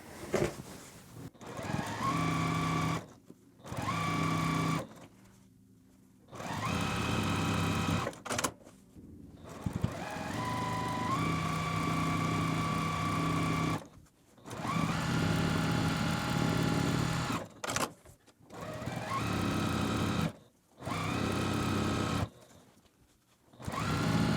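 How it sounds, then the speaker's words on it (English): A sewing machine stitching down the edge of a quilt block, running in repeated bursts of steady whirring and clattering broken by short silent pauses, close and alone. "Okay, so we're gonna sew down this edge."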